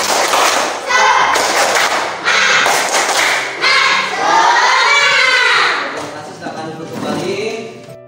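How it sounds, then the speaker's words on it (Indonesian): Students in a classroom do a rhythmic spirit clap: loud bursts of group clapping and thumping come in regular sections, mixed with children's voices shouting along. "Kita mulai tepuk semangat."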